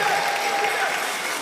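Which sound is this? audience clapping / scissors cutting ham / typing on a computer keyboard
audience clapping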